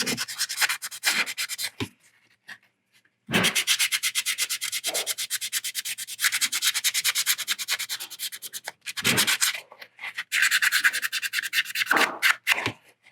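Resin model kit parts for a 1/60 Hyaku Shiki being sanded and scuffed by hand: close, rapid back-and-forth rasping strokes in bursts separated by short pauses, with no talk.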